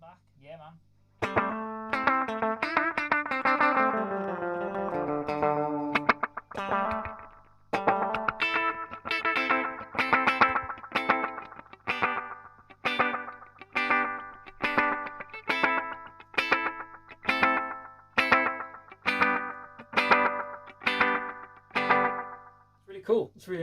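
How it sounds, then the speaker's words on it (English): Electric guitar played through a Death By Audio Echo Dream 2 echo pedal, first a ringing strummed passage, then rhythmic chopped chords with short slapback repeats and gritty distortion, loud and up close. "Let's throw some Echo Dream into the mix."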